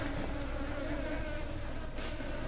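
Flies buzz in the video game SupraLand, a steady, close insect drone that holds for about two seconds and then drops briefly.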